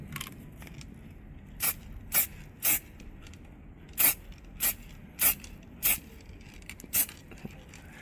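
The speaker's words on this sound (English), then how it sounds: "Try to spray at different angles" Short, sharp hissing bursts from a spray can misting black paint onto a car badge, about ten quick sprays in an irregular rhythm, close and fairly quiet, with no talking.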